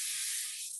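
Bacon on a griddle gives off a brief, soft, steady hiss of sizzling fat that fades slightly at the end, with no other sound.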